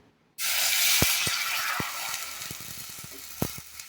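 Water in a pot with coconut oil, heated for millet noodles, bursts into a loud, sudden hiss and sizzle that slowly settles into a steady bubbling with a few small pops.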